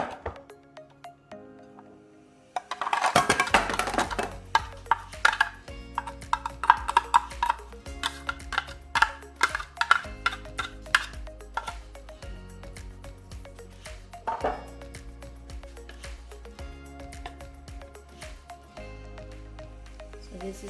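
Pork and shrimp siomai filling scraped and plopped into a bowl, soft squishy clumps and light scraping ticks in an irregular rhythm, close by, over a quiet background tune.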